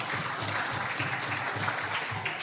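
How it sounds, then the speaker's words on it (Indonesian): Applause from a school audience at an election outreach session in a junior high school, a steady patter of many hands clapping at moderate level, fairly even throughout with no voices over it. "Tepuk tangan waktu Zara."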